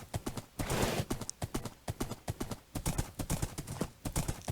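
Horse hooves clip-clop at a steady trotting rhythm in the Minecraft video game while the horse is ridden, loud and close, repeating evenly with no talk over them.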